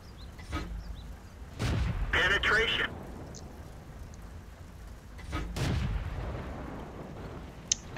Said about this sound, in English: I'm going to shoot the KV-1S on the hill